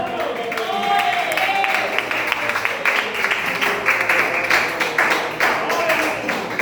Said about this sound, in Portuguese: Para Jesus, uma linda salva de palmas